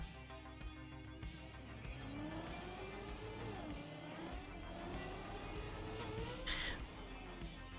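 Car in the video game Deep Dip 2 driving over turbo boosts: a steady engine drone with tire squeal, shifting pitch, and a brief bright burst of boost near the end.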